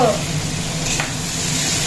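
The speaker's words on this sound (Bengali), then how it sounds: "তো আমি এই মাছের তেলটা এখন ভাজছি।" Fish fat fries in a pan for breakfast, giving a steady close sizzle and crackle that runs throughout, with a voice speaking over it.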